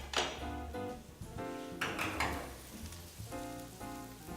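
Mushrooms tossed into a pan of onions already frying golden brown, with a steady close sizzle broken by a few louder bursts and knocks as the pieces land and shift.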